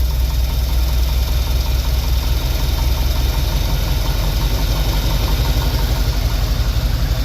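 A 1976 Chevy C10 engine idles after a carburetor swap, a loud, steady low rumble with a constant rapid pulsing beat throughout and no talk over it.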